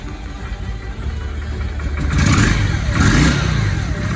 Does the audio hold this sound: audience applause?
no